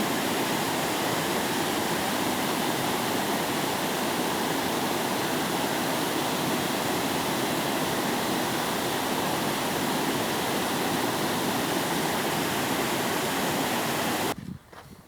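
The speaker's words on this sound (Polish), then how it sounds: "po tych deszczach zwróćcie uwagę, jak dużo jest wody tutaj w górach" Powerful, continuous roar of a rushing mountain stream swollen after heavy rains near Szklarska Poręba, loud and close, a dense unbroken wash of water that cuts off abruptly near the end.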